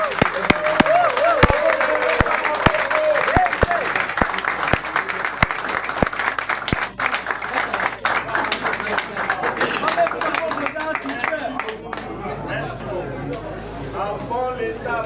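A large crowd claps and cheers at an official handover ceremony in Congo, sustained applause with whoops and shouted voices, some close sharp claps standing out before the noise gradually thins toward the end.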